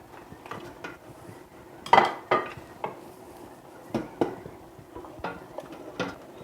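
Meat dropped into a cooking pot of softened leeks and vegetables for couscous, giving a few close clanks and clinks of metal and utensils, with sharper knocks spread through a quiet kitchen and no talk.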